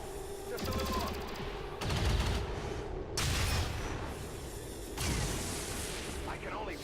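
Rapid bursts of gunfire from XCOM 2: War of the Chosen, several loud clattering volleys of automatic shots separated by brief pauses, with a faint voice underneath.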